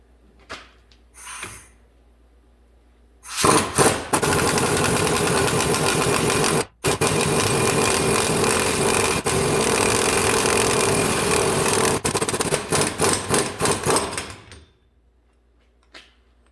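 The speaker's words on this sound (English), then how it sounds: "So here's the setup to pull the flange out of the bearing." A puller draws the wheel flange out of the front wheel bearing on a 2012 Ford Transit: a loud, steady mechanical whir runs for about eleven seconds with one brief break, then cuts off into quiet.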